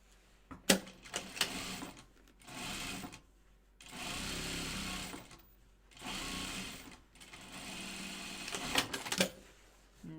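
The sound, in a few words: sewing machine top stitching a bag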